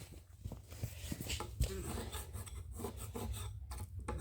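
Rubbery, partly set glue is scraped off glued-up wooden strips for a cutting board: a close, steady rasping rub with short strokes and one sharper scrape partway through.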